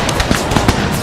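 Sharp rifle volleys crack and pop in quick irregular bursts during an American Civil War battle in the Total War video game, with a voice talking over the shots.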